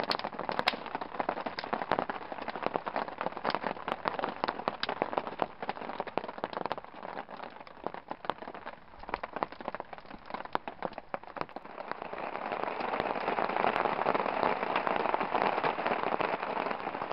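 Steady rain pattering on a campsite tarp in Algonquin Park, a dense close hiss of drops that swells slightly heavier toward the end, with no voices.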